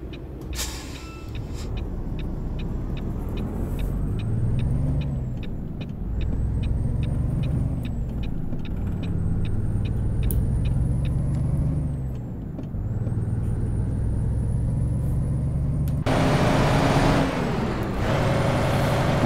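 Kenworth T600 truck with a Paccar 500 hp engine in American Truck Simulator, a loud steady engine drone with gear shifts and rising revs, a faint repeating tone, and a sharp air-brake hiss near the end.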